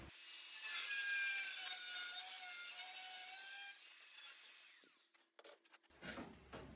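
A piece being cut by hand to fit a car firewall, with a steady rasping saw stroke that carries on for several seconds, then stops and gives way to a few scattered handling knocks.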